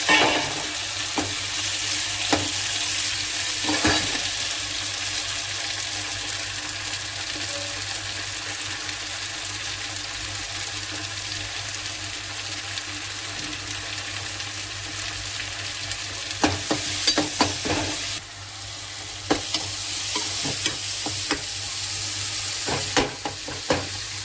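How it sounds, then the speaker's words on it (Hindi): Tomatoes and onions roast in a pan with a strong, continuous frying hiss, interrupted now and then by clattering stirs and taps, with busier scraping bursts toward the end. "टमाटर प्याज दोनों रोस्ट हो चुके हैं"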